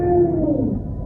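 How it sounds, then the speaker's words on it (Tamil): Cat yowling loudly as a sound effect, a single drawn-out, low wavering wail that slowly fades over about a second. "பூனை பயங்கரமா கத்துற சத்தமும் கேட்குது."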